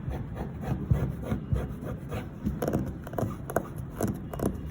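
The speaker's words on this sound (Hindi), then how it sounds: "आपको आवाज़ से भी आइडिया हो रहा होगा कि मैं इसको सही तरह से कुरेद रही हूँ" Close, steady scratching and rubbing on block-printed lawn suit fabric, a rough rasping texture with irregular strokes repeating throughout, quiet and without talk.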